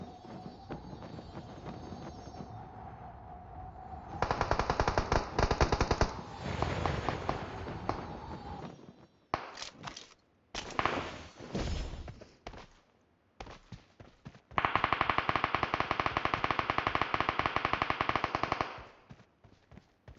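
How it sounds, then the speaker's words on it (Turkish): Bursts of rapid automatic gunfire in PUBG Mobile crackle in loud, dense stretches with brief gaps, with no talking. "sen nereden sıkıyorsun? Göremiyorum ki. Bir yerden ses geliyor."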